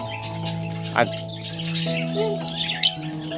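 Parrots and pigeons at a bird house in Gadhada, Gujarat give short squawks and chirps, with a sharp call about a second in and another near the end, over a steady tonal hum and faint voices.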